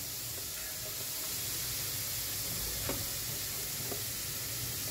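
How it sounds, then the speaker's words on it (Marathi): Grated carrot stuffing sautéing in a pan gives off a soft, steady hiss of frying with a couple of faint utensil taps. "त्याला फक्त आपण थोडं थोडं सॉटे करून घ्यायचंय"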